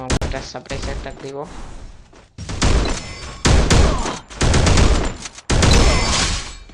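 Gunfire in the Free Fire video game comes in loud, dense bursts of automatic shots separated by short gaps, with a voice talking at the start.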